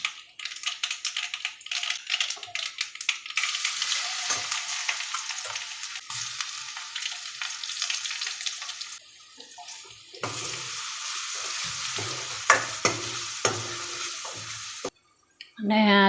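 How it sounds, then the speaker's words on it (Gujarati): Grated bottle gourd is tempered and stir-fried in a pan for an upma, giving a crackling sizzle broken by scraping stirs, with a few pauses and changes in loudness. "અને હવે સૌથી પહેલાં હું દૂધી વઘારી નાખીશ."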